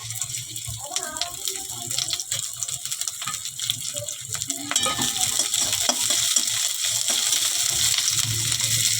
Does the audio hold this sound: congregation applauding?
no